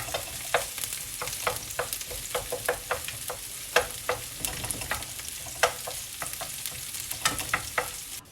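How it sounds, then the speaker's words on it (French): Onions frying in a hot pan and stirred with a wooden spoon: steady sizzling hiss with irregular scraping, clacking strokes of the spoon throughout, close and moderately loud, with no talking. "Je les mets dans ma poêle directement, comme ça, à feu chaud bien sûr."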